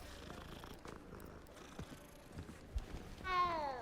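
A cat purrs faintly and close in a quiet room, a low rolling rumble, then lets out a clear meow near the end.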